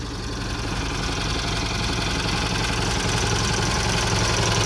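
A 1988 Argo Magnum 8x8 amphibious vehicle's engine runs steadily at idle, a loud, continuous low rumble with a faint knocking rhythm and vibration, no voices over it.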